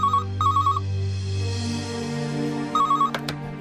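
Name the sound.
telephone ringing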